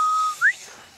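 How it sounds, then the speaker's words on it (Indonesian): A short whistle from a cartoon character, a thin steady tone held briefly, then a quick upward chirp, clear and close and heard alone. "Bersiul membutuhkan banyak latihan."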